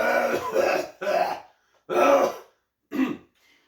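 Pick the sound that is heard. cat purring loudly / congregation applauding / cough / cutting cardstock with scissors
cough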